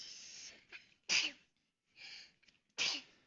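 Three sharp sneezes, each preceded by a short breathy intake, spaced about a second apart, close and fairly quiet with no talk.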